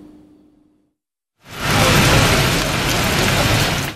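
A heavy rain shower begins abruptly after a brief quiet, becoming a dense, loud, steady hiss of pouring rain that continues to the end.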